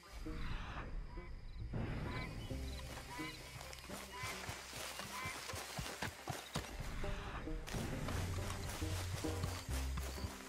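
Horse hooves clip-clop steadily as a horse-drawn wagon rolls along a trail in Red Dead Redemption 2, with a brief whinny, game music and ambience layered underneath.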